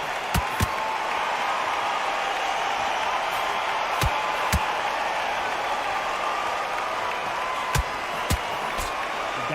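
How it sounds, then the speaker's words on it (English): A boxing arena crowd in the video game Undisputed keeps up a steady, dense roar and buzz, with occasional sharp thuds and clacks cutting through the noise. "crowd here cannot wait. They've been buzzing all day long"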